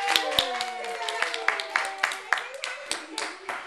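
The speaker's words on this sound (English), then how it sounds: "the crowd clapped their paws." Children clapping their hands at a school project-day performance of Rudolph the Red-Nosed Reindeer: a series of sharp, rhythmic claps under young voices talking and singing.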